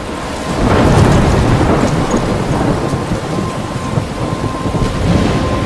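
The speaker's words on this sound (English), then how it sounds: "I'm trapped in a storm?" A loud video-game thunderstorm with steady heavy rain and rolling thunder, a continuous close wash of sound with no voices.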